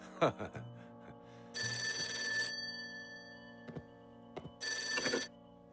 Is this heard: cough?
no